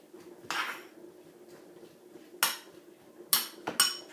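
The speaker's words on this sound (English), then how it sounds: "get a spoon, because all I am going to do is stir that round" A spoon clinks against a bowl while stirring beef-burger salsa, four separate bright scraping knocks spread over a few seconds, close and fairly quiet, with no voices.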